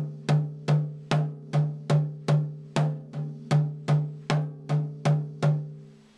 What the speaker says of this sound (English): That's the paradiddle, single paradiddle.